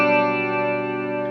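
Flashback Delay pedal set to a vibe modulation at its slowest 1 Hz rate, sustaining a single held guitar chord with a gentle, slow wavering shimmer for over a second, steady and close with no talking.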